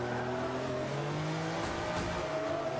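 A Ferrari race car engine in Forza Motorsport 5 on a palm-lined street circuit drones steadily at high revs, with a slight pitch shift partway through and no voices.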